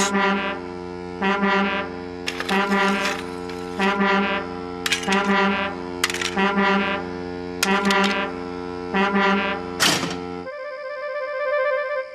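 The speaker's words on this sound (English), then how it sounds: "It's a new invention, a railway foghorn, said Sir Topham Hatt" A loud, deep railway foghorn sounds in a series of long, droning blasts separated by short breaks, ending with a final sustained tone.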